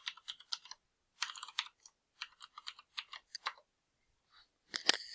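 A password is typed on a computer keyboard in quick, crisp clusters of close key clicks with brief pauses, ending in a sharper final keystroke, in a quiet room.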